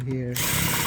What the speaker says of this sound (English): I'm using a 7mm socket wrench.